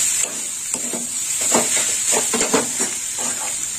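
Fried potato and eggplant tossed into a pan of frying prawns, a steady close sizzle with several soft thuds and scrapes of a spatula as the pieces go in.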